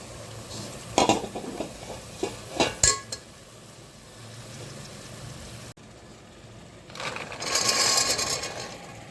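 Mixed vegetables for a traditional Kolhapur-style bhogi bhaji are stirred and sautéed in oil, with sharp spoon clatters against the pan and bursts of close sizzling between quieter stretches.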